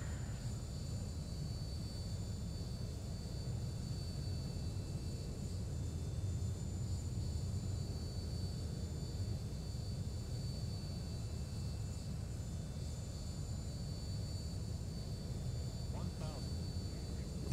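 Steady low rumble of a Ryanair Boeing 737-800 gliding down on its landing approach in the X-Plane 11 flight simulator, a continuous engine and airflow drone with faint high whine, constant and unbroken throughout.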